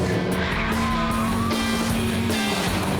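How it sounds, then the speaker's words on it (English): A Mini race car at full throttle in third gear on a race track, engine roaring loud and steady with a rising pitch and faint tire squeal, no talk. "Come on, Mini. Full throttle, third gear, through Clark."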